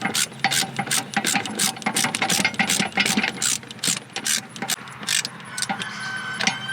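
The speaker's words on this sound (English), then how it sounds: "I'll crank down these back bolts again" A hand ratchet cranks down the back seat bolts on a Ford 3000 tractor, giving rapid, loud, close metallic clicking in quick repeated bursts with brief pauses between strokes.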